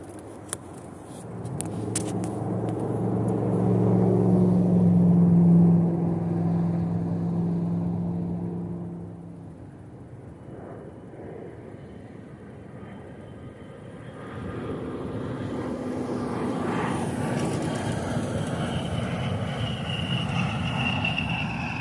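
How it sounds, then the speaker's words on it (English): An A-10 military jet landing at Davis-Monthan AFB, a loud low engine roar swelling toward the middle then easing into a broad whine that builds again, with no talk over it. "another A-10 inbound on base to final."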